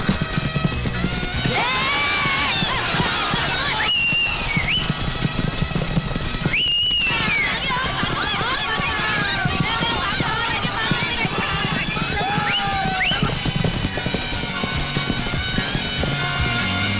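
Racehorses thunder along in a jackpot race, hooves drumming continuously at full volume, with excited crowd noise and voices layered over the galloping.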